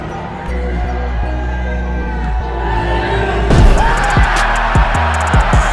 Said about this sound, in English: When the WNBA player makes a mediocre dunk, watch the reaction of the crowd